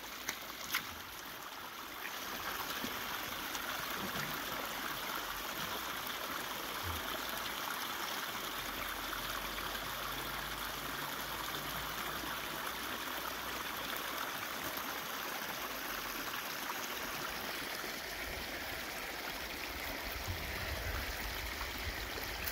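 A mountain stream in Pine Basin flows steadily over rocks, a continuous gurgling, trickling rush heard close and moderately loud, with a brief bump of handling noise at the start.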